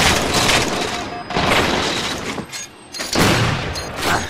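Gunfire and grenade blasts in Halo 4 multiplayer, loud rapid bursts of shots and booms in clusters separated by a brief lull, close and dense.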